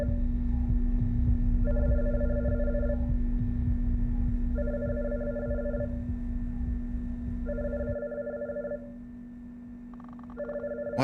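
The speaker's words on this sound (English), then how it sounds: "Is that a phone ringing?" A telephone rings in an indie horror video game, repeating in evenly spaced double-trill bursts over a low steady hum, then cutting off near the end, with no talk over it.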